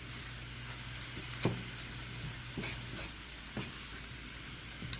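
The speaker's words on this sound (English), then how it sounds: "We're just going to stir it around like this and cook it" Broccoli frying in a pan while it is stirred, giving a steady low sizzle with a few soft scraping knocks from the spoon against the pan, heard alone at moderate level.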